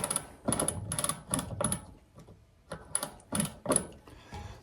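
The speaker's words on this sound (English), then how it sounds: "Then we got a ratcheting." A Mavic Ksyrium rear freehub ratchets in quick bursts of rapid clicking, two groups separated by a short pause, close-up and crisp with no voices.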